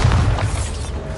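A Bombarda explosion spell in Hogwarts Legacy combat, a loud, deep rumbling boom that rolls on and slowly fades.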